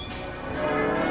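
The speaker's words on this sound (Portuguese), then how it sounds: "O dia nasceu ao som de furiosas badaladas." Church bells clang in a dense, continuous peal on a morning of unrest in revolutionary Paris, loud and reverberant with overlapping strokes and no voices.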